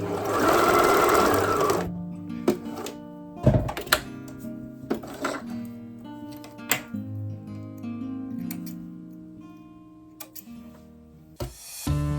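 A sewing machine stitches stretched headband fabric up close, a steady mechanical whir that stops and starts, broken by scattered clicks and small thumps.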